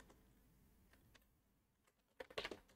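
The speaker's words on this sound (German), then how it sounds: "Jetzt mal kurz einmal tippen." Someone types a few keystrokes on a computer keyboard, sparse soft taps at first, then a quick burst of clicks near the end, close and fairly quiet in a calm room.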